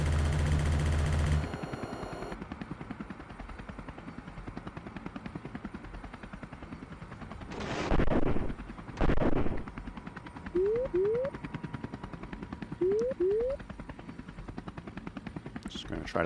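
Gunfire from a firefight between ground infantry in a helicopter video game, with a couple of loud bursts and scattered shots over a constant rotor drone.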